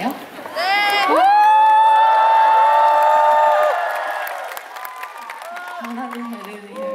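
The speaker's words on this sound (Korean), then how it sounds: "환호를 약간 소수로 이렇게 덩어리로 하는 것 같은데 다 같이 한 번만 해보면 안 될까요?" A festival crowd at an outdoor spring concert cheers together in one sustained, loud wave of shouts and whoops that swells, holds for a few seconds, then tapers off into scattered voices.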